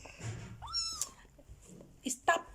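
A small kitten gives a rising, high-pitched meow, then a couple of shorter squeaky cries, close by amid low background voices and room rustle.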